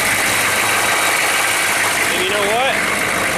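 A 6.5 turbo diesel engine idles in a steady, close rumble after sitting six years, while someone speaks briefly over it.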